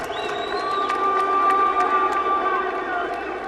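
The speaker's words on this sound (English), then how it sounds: "A big round of applause, ladies and gentlemen, for Knife" A boxing crowd at a heavyweight title bout in Harare, Zimbabwe cheers and whoops for a fighter's introduction, a continuous roar with whistles and shouted voices rising over it, fairly loud and unbroken.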